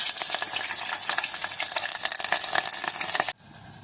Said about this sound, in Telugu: పచ్చిమిరపకాయ ఉల్లిపాయలను ఇప్పుడు ఇందులో యాడ్ చేసుకోవాలి.